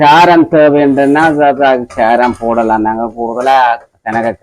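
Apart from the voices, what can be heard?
No everyday noise stands out behind the speech.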